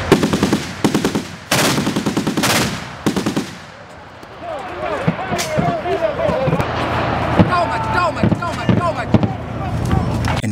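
Close, loud bursts of rapid automatic gunfire ring out during a military live-fire exercise for army officer cadets. After a brief lull they give way to a busy mix of distant shots, shouting and commotion.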